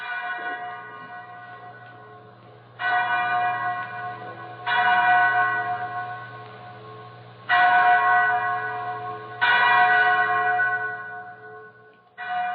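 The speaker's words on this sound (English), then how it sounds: "Mary, that's the chapel bell." A large chapel bell tolling slowly and resonantly, with several strikes spaced a couple of seconds apart, each ringing out and decaying before the next.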